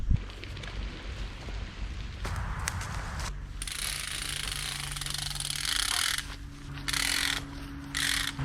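Ratcheting rope puller tensioning a rope on a tree during solo tree work: close, loud bursts of rapid clicking ratchet strokes, separated by short pauses.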